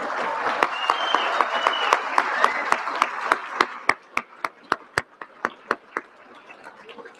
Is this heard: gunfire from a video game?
no